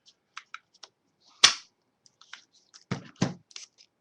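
A 1-inch circle punch bites through paper to cut a small tab. It gives a sharp, close crunch, then two heavier clicks later, amid light handling taps and rustles in a quiet room.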